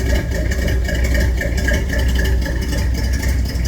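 A dusty Buick car engine idles steadily in a shop, a close, continuous low rumble with a faint rattle and an even level throughout, with no voices.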